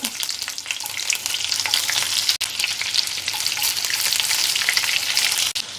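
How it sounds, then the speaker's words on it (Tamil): Steady loud sizzling of chopped onions frying in hot oil for peanut chutney, crackling continuously with a brief pause partway through. "இந்த வெங்காயம் கொஞ்சம் நல்லா கரியணும் கரியது வரைக்கும் நம்ம தாளிக்கணும்"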